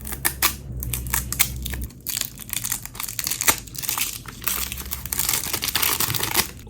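A mattifying setting spray is unwrapped from its packaging, with loud close crinkling, tearing and crumpling of plastic and cardboard in quick irregular bursts that continue throughout without talk.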